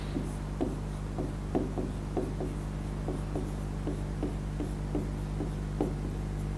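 A pen scratches out the word kitaplık in a box during a Turkish sixth-grade lesson, with quick, rhythmic strokes and short taps repeating close up and alone.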